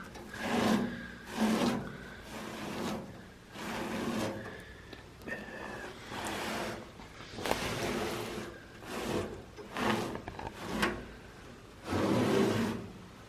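A rag wipes patina preservation product onto the body of a C10 truck, a series of soft rhythmic rubbing strokes close up, each a brief swishing scrape with short pauses between.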